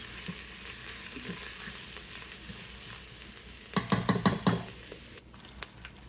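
Rice toasting in a pan with Thanksgiving leftovers gives a soft, continuous sizzle, broken near the end by a short burst of stirring and scraping clatter before it settles back to a quieter fry.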